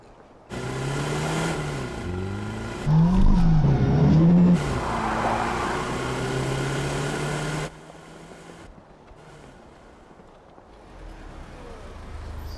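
BMW M5 with a 4.4-litre twin-turbo V8, heard as a loud close engine that revs up and swoops in pitch, settles into a sustained roar, then drops back to a low idle.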